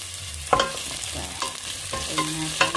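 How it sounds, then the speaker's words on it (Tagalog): Garlic, onion and ginger sauté in a pan, a close, steady sizzle with several scraping stirs and utensil knocks against the pan. "Lagay na natin ang ating bawang. Lutuin natin hanggang maging brown."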